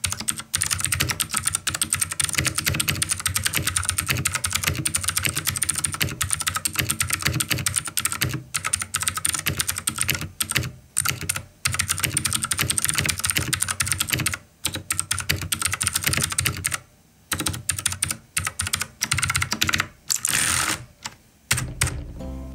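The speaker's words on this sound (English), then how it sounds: "How do the switches feel? How does the board feel altogether? Well, let's have a go." Steady, rapid typing on a Keychron C1 mechanical keyboard, dense clacking keystrokes running near and loud with a few brief pauses, no voices.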